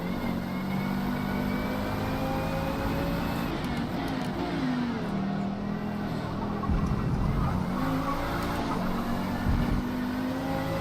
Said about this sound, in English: This Audi does sound absolutely brilliant though.